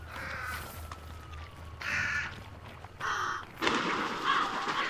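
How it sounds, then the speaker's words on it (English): Crows cawing in the video game Hunt: Showdown, several separate bursts of harsh caws over a low, steady ambient bed, fairly close and clear. "There's birds right there."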